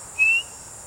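One short, pure, high flute note imitating birdsong, played without vibrato, brief and clear against a quiet background.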